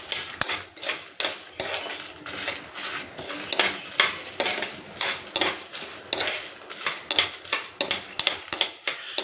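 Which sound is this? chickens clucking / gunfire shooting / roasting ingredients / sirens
roasting ingredients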